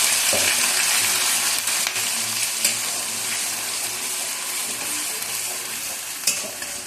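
Onion paste fries in spiced oil for a Bengali pachforon chicken dish, giving a steady, close sizzle with occasional stirring scrapes and clicks throughout.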